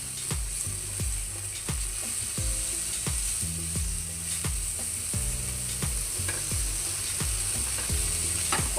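Taro stolons (kochur loti) frying in a pan, a continuous close sizzle broken by regular scraping and knocking strokes of a spatula stirring against the metal.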